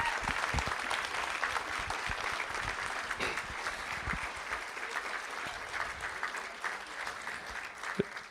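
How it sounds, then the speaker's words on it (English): Steady, even applause fills a school board meeting room for a high school winter guard team, with the broad dense clapping of a seated audience holding at a constant level throughout. "Let's give them a round of applause."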